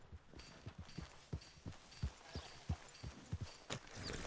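Horse hooves clip-clop in a steady walking rhythm in the video game Red Dead Redemption 2, close and fairly quiet, with a faint hum underneath.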